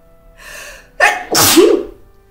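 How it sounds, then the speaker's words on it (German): A single loud sneeze from someone with a stuffy, runny nose, opening with a short breathy intake and ending in a sharp explosive burst, close up with no other sound. "bevor ich hier noch auf die Seiten niese"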